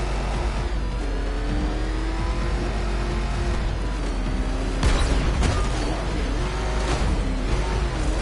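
Batmobile's engine in Arkham Knight giving a sustained, loud roar with rising and falling revs and a heavy thump midway, with no talking.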